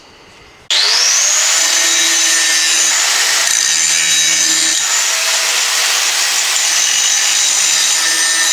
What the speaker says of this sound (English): all I need to do to fit this is grind these down a little bit